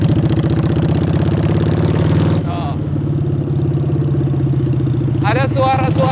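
A Honda Shadow V-twin motorcycle engine, converted to a bobber, rumbles at a steady idle with a deep, loping throb, briefly rising in pitch as it is revved.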